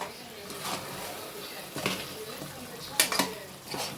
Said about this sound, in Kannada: ಸೊ ಈಗ ಮಿಕ್ಸ್ ಮಾಡೋದು ಎಲ್ಲ ಮಸಾಲೆಲ್ಲ ಹಾಕಾಯ್ತು